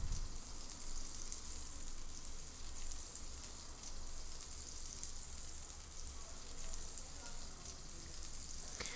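A rump steak sizzles steadily in a hot pan, a close, even hiss with scattered small pops and spits and no voices.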